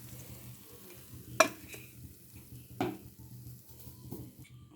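Masala-coated cauliflower lollipops deep-frying in oil, a soft steady sizzle in the background punctuated by two sharp utensil clinks against the pan, quiet overall with no talking.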